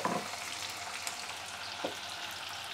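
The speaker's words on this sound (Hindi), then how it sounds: "प्याज को हम कलर चेंज हो जाने तक फ्राई करेंगे" Chopped onions frying in oil with cumin and mustard seeds, a quiet, even sizzle with a couple of faint utensil taps, heard alone and fairly soft.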